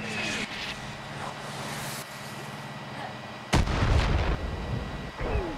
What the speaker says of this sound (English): Bro, I was shooting somebody!